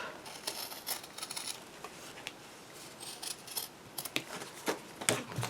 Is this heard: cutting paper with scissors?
yes